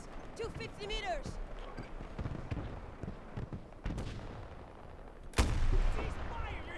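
Gunfire rattles through a Battlefield multiplayer battle amid steady shouted voice chat, with scattered distant shots and one loud, close blast near the end.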